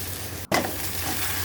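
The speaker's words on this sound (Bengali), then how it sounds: "আদা কুচি রসুন কুচি ভেজে নিচ্ছি বাটারের মধ্যে" Chopped ginger and garlic frying in butter for honey chicken give a steady close sizzle, with a sharp burst as the pieces hit the hot fat partway through, then continuous crackling.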